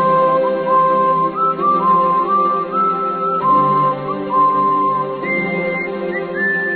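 Astrub theme music from the Dofus video game, with flute and whistle-like melody lines over sustained harmonic backing, playing steadily at an even level throughout with no voices.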